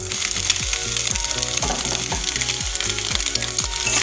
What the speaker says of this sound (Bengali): ডিমগুলোকে আমি এইভাবে ভেজে নেব।